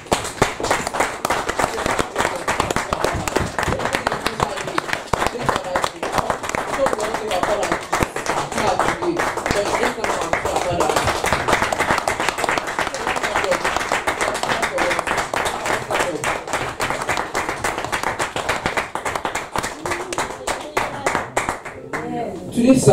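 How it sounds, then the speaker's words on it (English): A church congregation stands and claps their hands during a Sunday service, dense steady applause lasting over twenty seconds with voices mixed in underneath. "Can we all stand up and clap our hands for the fathers"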